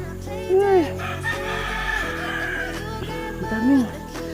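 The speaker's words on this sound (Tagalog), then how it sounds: "Ang daming manok panabong dito." Fighting cocks crow nearby, with two distinct cock-a-doodle-doo calls and fainter crowing and clucking from other birds in the background.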